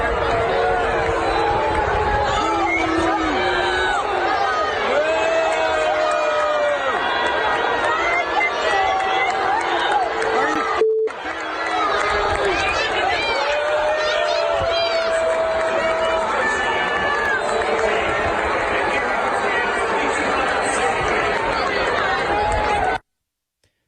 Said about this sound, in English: listen to the fans booing here